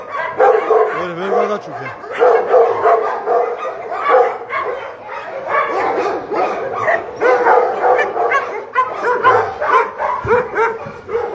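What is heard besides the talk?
Dogo Argentino dog barking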